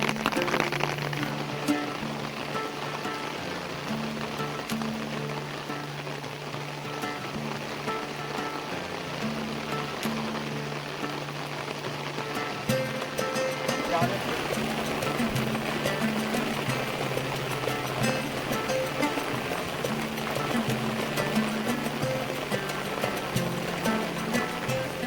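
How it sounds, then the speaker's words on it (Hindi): Steady monsoon rain falls in the mountains, a dense continuous hiss of drops on surfaces with a low rumbling undertone, constant and moderately loud throughout. "अभी फिर से दोबारा बारिश प्रारंभ हो गई है"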